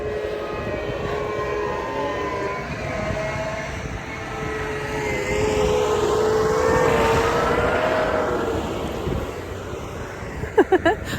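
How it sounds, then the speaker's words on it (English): A tractor's heavy engine drones steadily nearby on a snowy walk, its rumbling pitch shifting and swelling as it passes, then fading with a few faint knocks at the end. "just going to wait until the tractor has passed"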